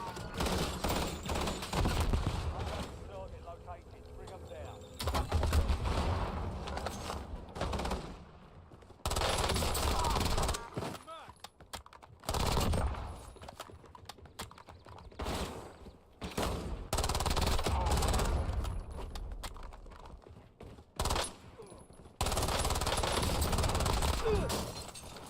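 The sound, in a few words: gunfire from enemies in the video game Warzone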